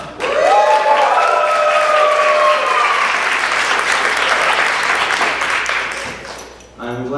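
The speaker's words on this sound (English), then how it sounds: "I'm glad you're no stranger to cheering" A September 2013 extravaganza audience cheers and applauds loudly in a dense, sustained wave of clapping and shouts, with a whistle rising early on, the ovation easing off near the end.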